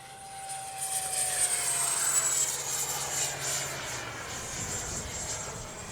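A Freewing T-33 80mm electric ducted-fan model jet whines past, its high-pitched engine tone rising and then fading with a shifting pitch, steady and moderately loud, no voices.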